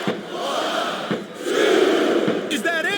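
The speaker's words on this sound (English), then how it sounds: "Wow, listen to that chant, Taz." Arena crowd chanting in the WWE SmackDown vs. RAW 2007 video game during a women's wrestling match, a loud continuous roar of many voices swelling midway, with a brief shrill whistle-like sweep near the end.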